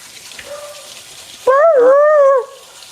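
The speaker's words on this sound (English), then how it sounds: "my dog doesn't want to hear it from you either. Because he's barking at you." A pet dog gives a single drawn-out, wavering howling bark, loud and close, over a faint indoor background.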